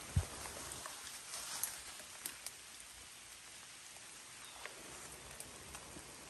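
Steady rain falls outdoors among bonsai peach trees at a Northwest tree nursery, a faint, even hiss with occasional soft drop taps and no talking.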